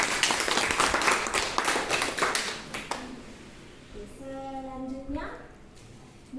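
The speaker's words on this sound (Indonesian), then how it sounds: "Bapak Ibu kita beri aplaus dulu" Audience at a school event in an Indonesian vocational school claps in a loud, dense burst of applause for about three seconds, then fades as a voice and a tonal sound follow.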